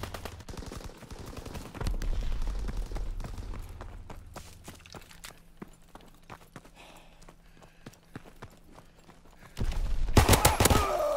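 Machine gun fire in Call of Duty WWII: rapid, rattling bursts of shots at varying distance, dense early, thinning in the middle and ending in a loud close burst.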